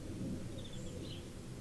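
Steady outdoor rain pouring down, a dense continuous wash of hiss and low rumble with no pauses, close and fairly loud, and a couple of faint bird chirps above it.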